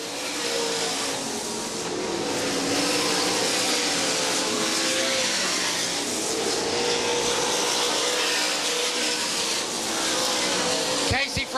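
Race cars roar around an oval track during a race, a dense continuous engine drone that swells and fades as cars pass, with an announcer talking over the noise.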